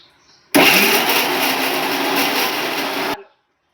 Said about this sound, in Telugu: ఇలా పొడి చేసి కొద్దిగా గ్రైండ్ చేసుకోవాలి ఇలా